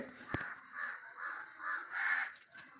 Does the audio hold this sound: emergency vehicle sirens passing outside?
no